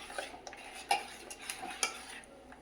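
A spoon stirs masala buttermilk in a container, giving soft repeated clinks and scraping swirls at an uneven rhythm, close and fairly quiet, with no voices.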